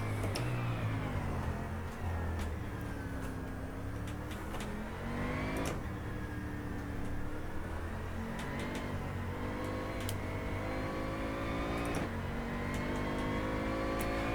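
A Bentley Continental GT engine in the rFactor 2 racing game at the Misano circuit, revving up and down continuously with rising and falling pitch as gears shift, loud and close with occasional clicks.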